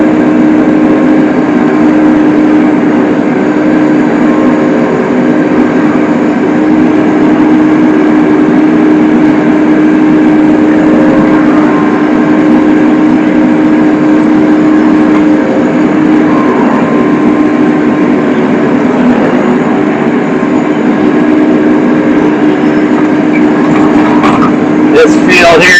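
A 2013 hay swather's engine running steadily, a loud continuous low hum with a tonal drone from inside the cab, unchanging throughout, while someone speaks over it.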